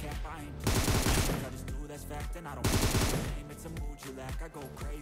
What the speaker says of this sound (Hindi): चारों तरफ हो रही थी फायरिंग